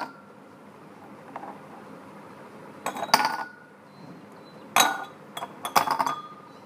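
Ice cubes drop into glass beakers one after another, giving several sharp clinks and knocks in irregular clusters against a quiet room background.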